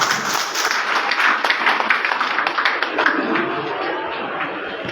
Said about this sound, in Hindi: स्वागत कीजिए जय श्री जी का जोरदार तालियों के गड़गड़ाहट के साथ।